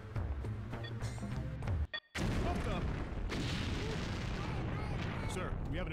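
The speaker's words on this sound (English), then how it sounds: "Sir, we have an explosion in Sector B." A video game explosion erupts as a loud, dense blast and crash, cut briefly by a moment of near silence before the rumbling debris noise resumes.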